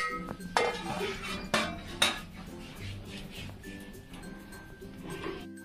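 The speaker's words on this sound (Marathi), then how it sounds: "तर याच्यावर आता मी झाकण ठेवून देते." Metal pot lid set on a cooking pot of fresh fish curry over a wood fire stove, a few sharp clinks and clanks close by, followed by quieter rattling.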